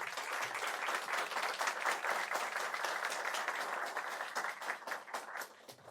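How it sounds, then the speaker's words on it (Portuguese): An audience at a business talk applauds a guest's family, with steady, moderately distant clapping that carries on for about six seconds and thins out toward the end. "eu queria pedir uma salva de palmas para a sua família que está aqui também"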